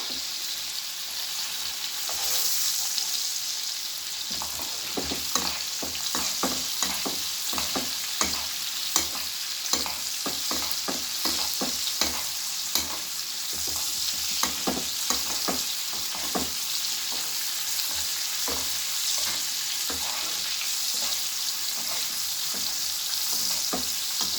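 A beef steak fries in a pan with butter, giving a steady loud sizzle and hiss throughout, broken by repeated scraping and clicking as the meat is moved and stirred. Nobody speaks.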